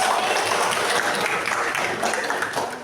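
Students in a classroom lesson clap together in a dense, steady burst of applause that runs the whole time and fades slightly at the end.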